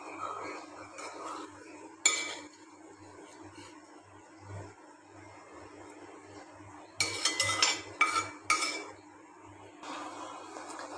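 Fried ponnaganti leaf curry is scraped and spooned into a serving bowl, with scattered metallic clinks and clatters of utensil against pan, a few louder bursts of scraping near the end, and no talking.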